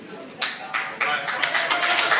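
Supporters in a gathering clapping, sparse individual claps at first that build into steadier applause, fairly close and moderately loud.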